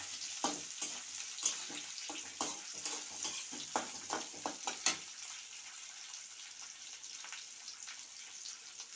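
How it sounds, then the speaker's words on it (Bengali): Chopped onion dropped into a hot frying pan while cooking a liver and gizzard dish, crackling and sizzling with scattered stirring clatter, then settling into a steady quieter fry. "এখন আমি এরপরে পেঁয়াজ কুচিটা দিয়ে দিচ্ছি।"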